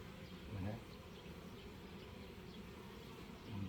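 Honeybees hum softly inside a hive, a faint, continuous buzzing close by, with someone speaking quietly over it.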